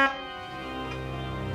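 A reed pipe from a pipe organ sounds a single sustained, buzzy tone rich in harmonics, steady and fairly loud for the whole stretch after a sharp onset, with no talking.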